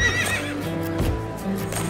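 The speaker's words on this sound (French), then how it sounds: "Tandis que l'on attelle les chevaux" Horses being harnessed to a stagecoach on a cowboy ranch whinny and neigh while hooves clip-clop nearby, a short, lively burst of sound effects for a children's story.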